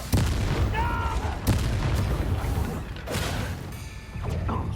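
Fire spell cast in Hogwarts Legacy combat, heavy booming blasts and whooshes repeating about every one to two seconds, close and loud, with brief voices mixed in.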